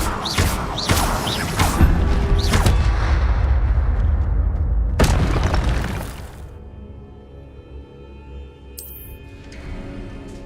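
Incendio fire spell cast in Hogwarts Legacy, a series of sharp crashing blasts in quick succession followed by a loud burst and a fading rumble, close and forceful with no talking.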